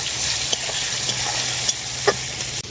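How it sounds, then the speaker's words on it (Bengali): Chopped tomato fries lightly in a pan with ginger, a constant close sizzle broken by a few sharp utensil taps against the pan. "টমেটোটাকেও আমি হালকা করে ভেজে নিয়েছি"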